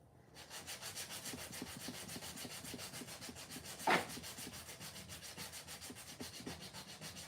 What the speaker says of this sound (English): I'm going to sand them just to make them smooth because the paste is kind of raised